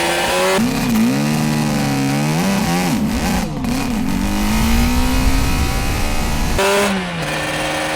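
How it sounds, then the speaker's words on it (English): A Suzuki RG500 two-stroke motorcycle with a dry clutch pulls away hard on a hot day. The engine buzzes and revs loud and close, rising and wavering in pitch, then drops back and revs again near the end. "I will try and do a bit of a more rapid pull away, which is hard on this bike"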